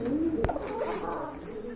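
Koka pigeons coo in a short, soft, low burble close by, with a faint sharp click partway through.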